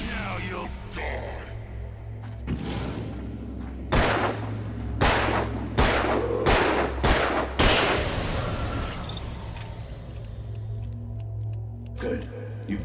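Gunshots ring out in Alan Wake, a series of sharp, loud reports spaced a second or so apart in the middle stretch, surrounded by a low rumbling game ambience and a brief voice.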